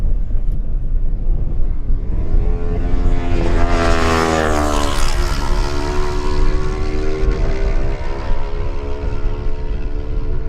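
A Kawasaki racing motorcycle tears past during a Manx Grand Prix lightweight race, its engine note rising and falling sharply as it closes in and recedes, loud and continuous over a rumbling outdoor background.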